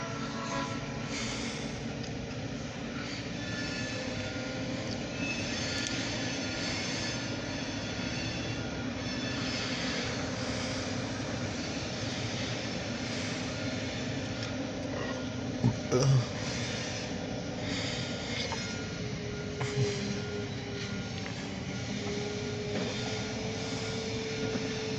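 Grain hopper freight train rolling steadily past in a freight yard, a continuous loud rumble of wheels on track with brief metallic clanks near the middle; a voice speaks over it.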